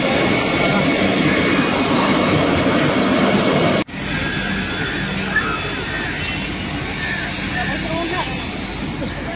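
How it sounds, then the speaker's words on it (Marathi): A Vande Bharat train pulls into Masjid station in Mumbai, a loud sustained rumble of rolling wheels and station noise filling the whole stretch, with a sharp clunk partway through and talk nearby. "आपल्या कोकण साईडून ही वंदे भारत ट्रेन आत्ताच आले."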